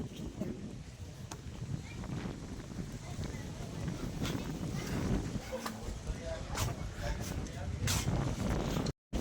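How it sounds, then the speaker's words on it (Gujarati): Strong gusts of a sudden summer rainstorm with thunder buffet the microphone outdoors, making a loud continuous roar that swells and surges, with a voice at times under the blast before it cuts off abruptly. "જો જોશમાર પવન ફૂલ."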